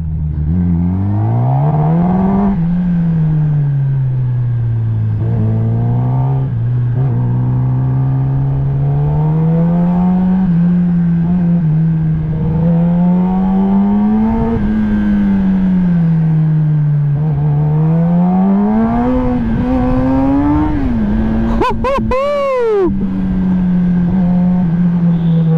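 A hyperbike revving and accelerating, its droning engine tone rising and falling steadily for about 25 seconds, with a brief sharp burst of noise near the end and no talking.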